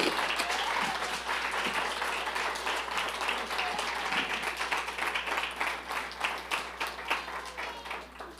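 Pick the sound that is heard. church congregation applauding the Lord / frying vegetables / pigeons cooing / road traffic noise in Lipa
church congregation applauding the Lord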